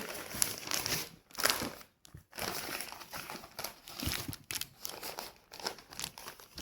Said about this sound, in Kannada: ಇದೇ ರೀತಿಯಾಗಿ ನಾನು ಎಲ್ಲ ಗಿಡವನ್ನ ಸುತ್ತಿಕೊಳ್ತಾ ಇದ್ದೇನೆ